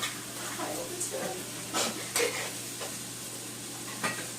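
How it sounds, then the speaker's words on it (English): Stir-fry noodles frying in oil in a pan: a steady, close sizzle with intermittent scraping and stirring clatters of utensil against pan. "So you want to let it fry a little bit."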